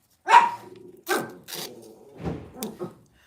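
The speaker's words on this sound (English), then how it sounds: "my dogs are relentless" Dogs at home bark in several sharp, close bursts, loud at first and then a little quieter, with short pauses between barks and no talking.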